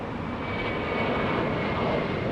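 An American Airlines airliner in retro livery, inbound from Puerto Vallarta, roars steadily as it arrives at Los Angeles International Airport, a loud, continuous broadband engine rush with a faint whine, close by and without voices.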